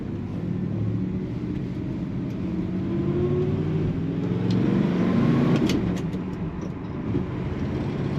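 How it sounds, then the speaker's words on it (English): A 1965 Chevrolet Chevelle Malibu two-door hardtop's engine drones steadily as it accelerates along a highway, with a low rumble and rising hum of road noise throughout. "Good throttle response and power from this car."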